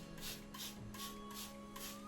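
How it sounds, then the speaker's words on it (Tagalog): A spray bottle mists water over freshly sown seeds in recycled fruit and vegetable containers, giving about five short, quiet spritzes in a steady rhythm with no talk. "Parang i-spray nyo, spray."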